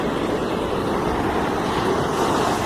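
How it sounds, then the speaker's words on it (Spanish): Ocean waves break on the shore near Pucusana, Peru, a continuous loud surf roar with a little wind and no talking. "A ver, las olas revientan acá"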